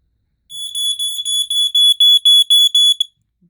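A FireX G-6 smoke detector shrieks in a slow 4-6 pattern, a loud, piercing tone pulsing about a dozen times in quick, even bursts before stopping.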